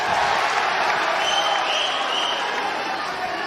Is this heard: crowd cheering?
yes